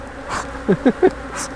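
Honey bees buzzing close around a beekeeper during a hive check and requeening, short bursts of buzzing passing near over a quiet background.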